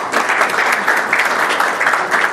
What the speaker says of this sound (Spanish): Así que un aplauso para David, por favor.